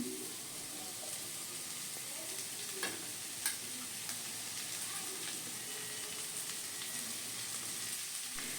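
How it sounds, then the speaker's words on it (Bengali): Chopped potatoes and snake gourd fry quietly in a pan, a soft steady sizzle with a few faint clicks and stirring scrapes. "এখন আমি কুচিয়ে কেটে রাখা আলু এবং চিচিঙ্গাগুলো এর মধ্যে দিয়ে দিচ্ছি"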